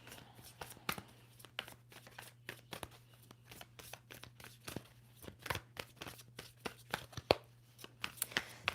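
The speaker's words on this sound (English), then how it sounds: "Two more shuffles for Libra" A deck of tarot cards is shuffled by hand in a quiet room, giving uneven bursts of soft riffling and sharp slapping clicks that come close together and stay near the microphone.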